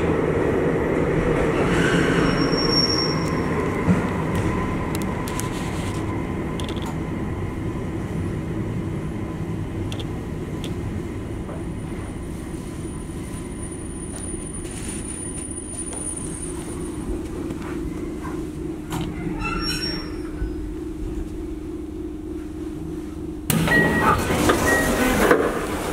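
An Airport special rapid train pulls into New Chitose Airport station, a long, steady rumble of rolling wheels with faint squeals and clicks that slowly settles, then a brief burst of louder platform noise near the end.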